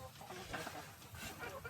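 Chickens on a family farm cluck softly and repeatedly at a distance, with faint voices in the background.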